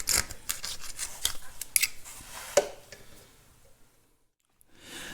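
Close scraping and picking with a metal tool clears dried seal out of the final drive splines of a Caterpillar D2 bulldozer, a series of sharp irregular scratches that taper off to near silence before resuming faintly.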